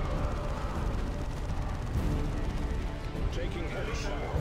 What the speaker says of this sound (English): Finally a good artillery strike.